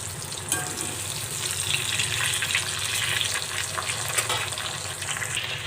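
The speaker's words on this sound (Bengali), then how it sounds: "মাছের ওই পাশটাও এরকম লাল লাল করে ভাজা পর্যন্ত অপেক্ষা করব।" Pangas fish pieces frying in a pan, browning on the second side: a steady, close hiss of sizzling oil runs throughout with a few brief crackles and no voices.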